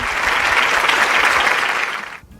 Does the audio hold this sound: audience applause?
yes